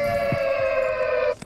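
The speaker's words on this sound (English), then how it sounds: "That's our sirens." A sustained siren tone rings out as a win sound in Fortnite, a single steady pitched wail with harmonic overtones lasting just over a second before cutting off abruptly.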